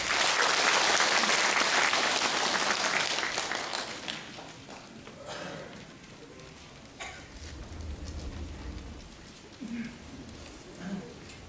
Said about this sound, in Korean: 여러분 뜨거운 격려의 박수로 맞이하시기 바랍니다